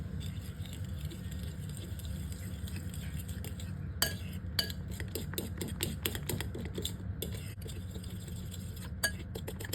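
A spoon stirs oat pancake batter in a bowl, giving soft scraping and scattered light clinks against the bowl that grow busier midway, close and fairly quiet over a low background hum.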